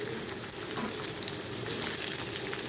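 Onions dropped into hot oil fry with a steady, dense sizzle that holds at an even, fairly quiet level throughout, with no talking.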